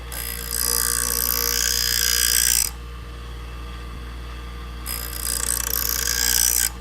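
A knife honed on a powered sharpening machine wheel with one or two very light passes: two bursts of loud, bright grinding hiss over the machine's steady hum, separated by a quieter pause.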